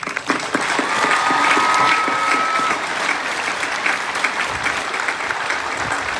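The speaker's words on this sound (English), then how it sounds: "Please help me in applauding the honor students tonight." An audience at a 2022 high school graduation ceremony applauds the honor students with sustained, dense clapping that fills the hall at a steady level.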